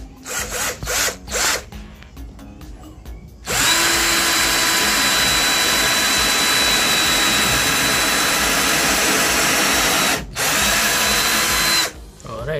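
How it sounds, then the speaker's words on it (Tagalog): A Makita cordless impact drill driving into a thick 2x4 coco lumber board, a few short bursts and then a long loud sustained whine with a brief pause, ending in another burst. "Subukan natin nung ating wood na impact drill."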